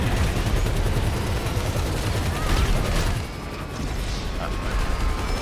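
Rapid bursts of gunfire in Grand Theft Auto V, a dense, sustained fusillade of overlapping shots under steady game noise, with a brief dip midway before firing resumes.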